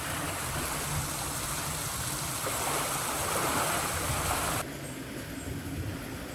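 Water rushes steadily out of a canal pound, a dense continuous flowing roar that shifts level partway through and carries on without any voices.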